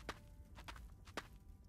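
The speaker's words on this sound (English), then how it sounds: "It mutes everything else but the footsteps." Three or four separate footsteps in Wild West Dynasty, soft, crisp thuds spaced unevenly against a quiet, low background.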